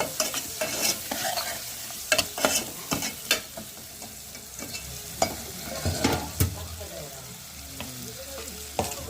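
Curry cooking in a pan with coriander, coconut, ginger and garlic, soft sizzling broken by repeated sharp scraping clicks of a spoon stirring, close by and without voices.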